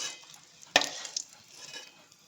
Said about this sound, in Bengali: এখন লাল লাল করে ভাজা হচ্ছে